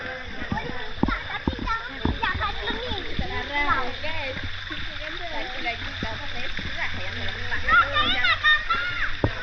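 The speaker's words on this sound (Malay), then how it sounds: "orang mandi dekat atas pula" People bathing upstream in a river or stream, with splashing and water movement under frequent nearby children's and adults' voices, chatter running throughout.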